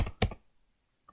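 A short burst of three quick clicks on a computer keyboard, close and clear, followed by silence and one more faint tap.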